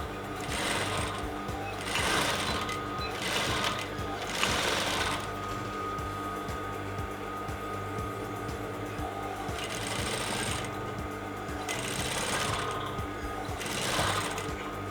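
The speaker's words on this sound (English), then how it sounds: "So now I'm applying a top stitch." A sewing machine runs close by as it top-stitches a Yoruba Abeti Aja cap, with bursts of steady mechanical whirring that start and stop several times over a low hum.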